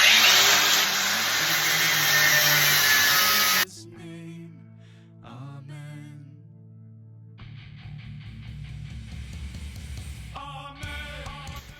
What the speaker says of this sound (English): got our grinder, gonna grind off this handle